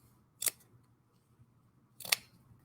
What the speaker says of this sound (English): I'm going to pull this up and trim this a little bit here